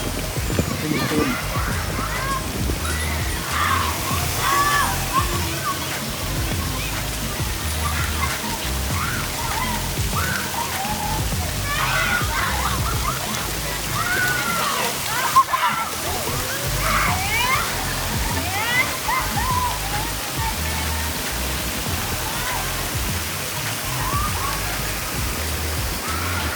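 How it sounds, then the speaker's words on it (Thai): Wave pool water at the Grande Centre Point Space Pattaya hotel sloshes and churns in a continuous broad wash, with a crowd of voices and splashing mixed in. "ต่อไปดูโซนคลื่นนะครับที่มีคลื่น"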